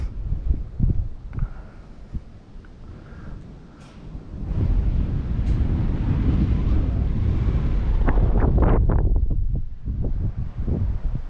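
Wind gusts around a former military lookout tower with an iron structure, overlooking an old military training ground; a steady, loud broadband rush that builds midway and holds, with a few sharp knocks and creaks in the later part.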